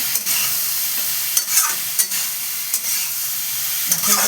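Bottle gourd with ginger, green chillies and spice paste is stirred in a hot pan: a loud, close sizzle with repeated sharp scraping strokes of the spatula, and no talking.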